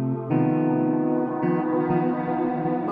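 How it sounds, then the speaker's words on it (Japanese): Guitar notes played through a Quartarone Guitar Reveries effects unit with reverb turned fully up, sustaining chords with long washy tails and a fresh note entering midway, alone without talk. "これエフェクトの量なんだよ、まあ、リバーブだな。"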